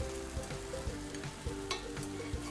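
Butter hits a hot pan and sizzles steadily in a soft, even hiss, with light regular taps of stirring over a low background hum.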